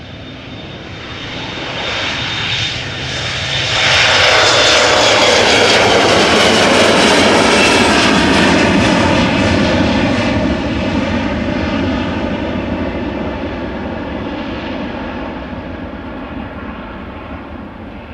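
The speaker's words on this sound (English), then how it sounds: "We're now watching KLM Flight 1485 going to Humberside, Embraer 175, 5-year-old airplane." A five-year-old KLM Embraer 175 regional airliner departs Amsterdam Schiphol, its jet engines swelling from a distant hiss to a loud, broad roar and then slowly fading as it climbs away.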